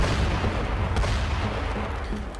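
Cannons boom and rumble continuously in the Hand of Fate video game, forming a dense, steady wash of heavy low-end blasts over about two seconds, with no talking.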